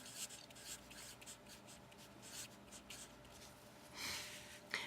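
Pen scratching out a short written answer on a GCSE physics exam paper, faint and close, in soft intermittent strokes with brief pauses and no talking.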